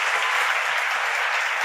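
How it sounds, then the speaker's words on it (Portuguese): Church congregation applauding at a tenth-anniversary service, dense continuous clapping from a large crowd, steady and loud for the whole moment. "Aplauda mais forte."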